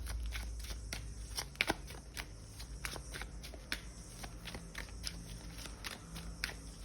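Tarot cards shuffled by hand during a reading, a steady run of close, crisp riffling and slapping with a few sharper snaps, alone with no voice.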